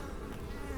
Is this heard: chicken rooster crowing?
no